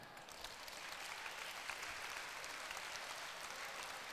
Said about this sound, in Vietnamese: các bạn cho một tràng vỗ tay nào